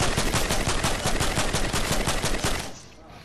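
Rapid automatic gunfire in the Fortnite video game, a steady loud burst of evenly spaced shots lasting nearly three seconds before cutting off into quieter game ambience.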